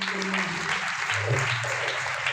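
Listeners at a religious gathering applaud the sound crew, a brief, continuous burst of clapping from a crowd, loud and even throughout.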